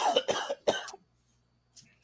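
A person coughs several times in quick succession over a podcast call, close and fairly quiet, followed by a brief faint throat noise.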